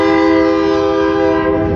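A train passes near the Arizona Capitol, its horn blaring in one long, loud, steady chord close by, with rumbling wheels underneath and no voices.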